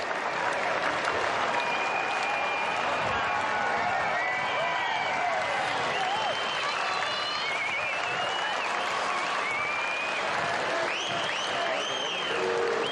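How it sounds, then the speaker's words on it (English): A racecourse crowd at Royal Randwick roars on Lightning Stakes day to welcome a racehorse back, a loud, sustained wall of cheering and clapping with whistles and shouts rising throughout, commentary faintly underneath. "The crowd at Royal Randwick are going to erupt as they get a glimpse to welcome this marvellous racehorse back."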